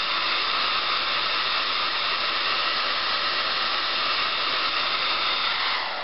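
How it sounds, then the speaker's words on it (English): A hair dryer blows in a steady, loud, even whoosh for the whole stretch while heating the glue on a PS3 Slim, with no pauses or change in pitch. "I take a hair dryer, heat it up"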